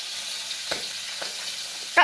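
Catfish frying in hot oil gives a steady, close hiss with scattered pops and crackles, and one louder spatter at the very end.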